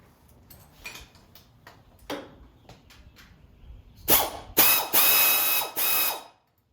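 A ratchet wrench works during an A/C compressor install on a 1971 Monte Carlo SS: scattered light ticks and taps give way to loud, rapid clicking ratchet strokes up close, then stop abruptly.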